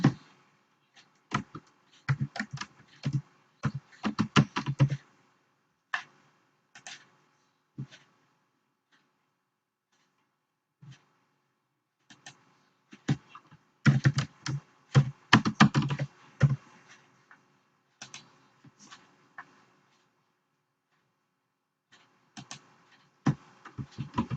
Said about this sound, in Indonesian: Kemudian kita ketikkan akun kita ketik, kemudian klik berikutnya, kita masukkan passwordnya.